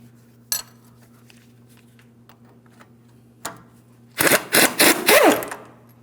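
A 21mm wrench works on the lower front shock hardware of a 2007-2014 GMC Sierra 2500 HD: a couple of isolated metallic clicks, then a burst of rapid ratcheting and clanking, close and loud against a low steady hum.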